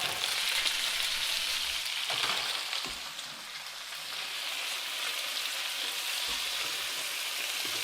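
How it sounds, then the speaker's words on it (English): Shrimp cook in a pan with oil, making a constant moderate sizzle with a few soft knocks as the pieces are laid down, and no voices. "I'm going to lay all the shrimp flat in the bottom of the pan."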